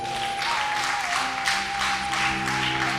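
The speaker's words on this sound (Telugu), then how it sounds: "చప్పట్లు పెట్టి గట్టిగా" A church congregation claps loudly in a steady rhythm during a Telugu sermon, the clapping running continuously over a sustained musical tone.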